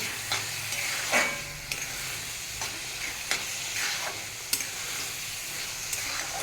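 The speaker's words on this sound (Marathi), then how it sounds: "ड्रायफ्रूट टाकून मस्त हलवून घेऊया त्याला" Carrot halwa with dry fruits being stirred in a pan, a continuous soft sizzle and scrape under a spoon, with sharp clacks of the spoon against the pan every second or so.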